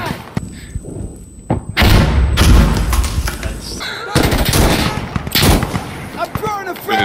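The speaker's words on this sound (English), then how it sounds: "Throwing frag!" A frag grenade detonates in Insurgency: Sandstorm, a deep booming blast with a heavy low thump, set among sharp bursts of in-game gunfire and rumbling battle noise while players talk over it.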